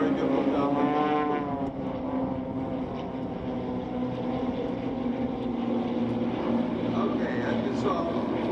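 An airshow plane performing a low pass drones steadily with a throaty engine roar and a sweeping pitch shift early on, while an announcer talks over the loudspeaker throughout.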